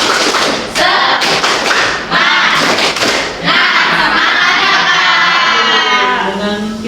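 A classroom group does rhythmic spirit clapping, loud close bursts of many hands in a patterned beat with short pauses, then a stretch of cheering voices.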